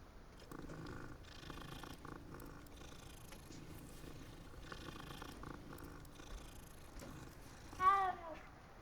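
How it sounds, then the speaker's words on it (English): A cat purrs softly and steadily while being petted in the video game Hogwarts Legacy, layered under game music and ambience, with a short meow-like chirp near the end. "Pet the kitty."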